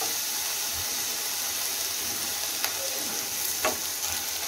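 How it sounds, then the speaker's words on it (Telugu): Fenugreek leaves sizzle and fry steadily in a hot pan for pulao, giving a continuous close hiss with faint crackles and a couple of brief stirring scrapes. "ఇది మనకి బాగా ఫ్రై అయిపోవాలి"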